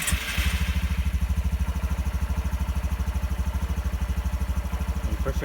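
A Honda Trail125 motorcycle engine idles in neutral just after starting, running slightly high with a steady rapid chug, close and loud, and no one talks.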